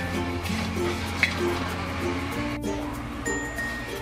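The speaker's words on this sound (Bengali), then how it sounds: "আমি সেমাইটা একটু ব্রাউন কালার করে ভেজে নেব।" Lachha semai vermicelli frying over medium heat in a pan, a low continuous sizzle with light stirring scrapes and a brief metallic clink, close by with no talking.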